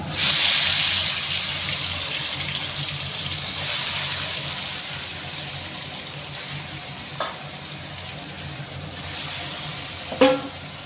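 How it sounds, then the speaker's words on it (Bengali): Meat dropped into a hot pan for pork gravy sizzles loudly and steadily right from the start, a close, broad frying hiss with a few brief clinks and stirring sounds near the end. "এবার মাংসটা দিয়ে দিচ্ছি।"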